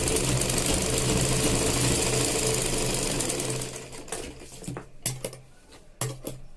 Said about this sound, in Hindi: इसके ऊपर एक सिलाई लगा दूंगी ताकि मेरी पट्टी मजबूती से लग जाए